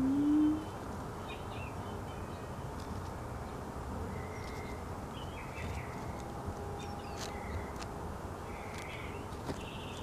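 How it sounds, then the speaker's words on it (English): A bird sings in a backyard at dusk in very low light, with short repeated chirps and calls at a moderate distance over a steady, faint outdoor background hum. "Listen to the sound of the bird."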